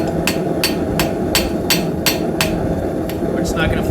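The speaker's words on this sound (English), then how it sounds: "So we're going to try to flatten this out using a small hammer." A small hammer taps metal in a steady rhythm, flattening a forged Celtic hair pin, about eight sharp, close strikes spaced evenly over a constant background hum.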